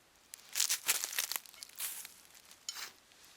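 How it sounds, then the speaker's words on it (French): Sand is shoveled into soil for planting garlic, giving a few quiet, gritty scrapes and crunches in short irregular bursts that fade between strokes. "pas mal de pelletées de sable"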